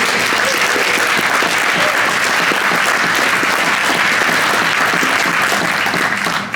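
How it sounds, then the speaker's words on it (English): A conference audience applauds loudly and steadily, dense clapping from a large crowd filling the room close up and continuing throughout without pause. "Give him a round of applause."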